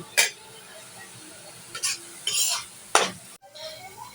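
Jute leaves being fried and stirred in a pan, several short, loud scrapes and clatters of the spoon against the pan over a soft, low sizzle, close by.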